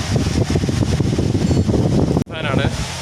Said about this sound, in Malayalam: ഹൈ സ്പീഡ് ഫാനാണ് കേട്ടോ